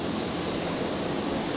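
An airliner powers up for takeoff at Brisbane airport on New Year's Eve, a broad, steady engine roar heard from a distance with no breaks.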